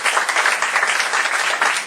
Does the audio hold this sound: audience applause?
yes